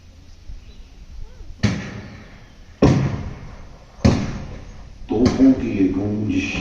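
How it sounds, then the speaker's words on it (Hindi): A 21-gun cannon salute effect in a light and sound show on Ross Island, Andaman: four deep booming blasts about a second apart, each decaying with echo, louder and closer as they go. "वायसरॉय का स्वागत 21 तोपों की सलामी से किया गया।"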